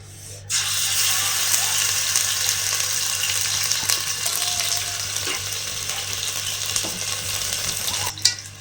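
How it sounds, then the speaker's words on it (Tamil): Ginger garlic paste frying with mutton in a pan, a loud, steady sizzle and crackle with occasional stirring scrapes that starts abruptly and runs almost to the end. "இஞ்சி பூண்டு பேஸ்ட்டு பச்சை வாடை போகிற வரையிலும் வதக்கிடுங்க"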